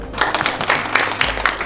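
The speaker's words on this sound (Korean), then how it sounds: "박수로 좀 맞이해 주시면 좋을 것 같습니다" An audience at a Mercedes-Benz Korea training center tech day claps to welcome the safety presenter. The short, brisk round of applause has a steady, even rhythm.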